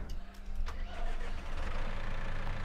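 A John Deere tractor engine in the Farming Simulator 19 game cranks and catches, then settles into a steady, loud, continuous rumbling idle that fills the whole stretch with no talk over it.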